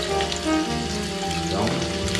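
Calabresa sausage frying in hot fat in a pan, a steady close sizzle and crackle running through the whole moment, with no voices.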